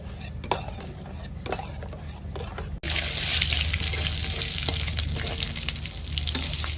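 Dried red chillies and mustard seeds crackle in hot oil as a dal tempering, stirred with spoon scrapes; a loud, dense sizzling roar bursts in partway and holds steady.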